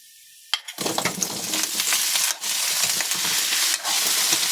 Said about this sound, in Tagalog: Igisa rin natin tong kalabasa.